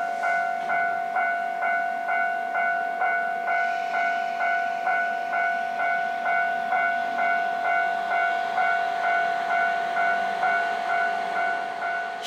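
A train idles at remote Akaigawa Station in Hokkaido, Japan, with a regular, repeating electronic chime or bell pulsing steadily throughout, fairly distant and even, with no voices.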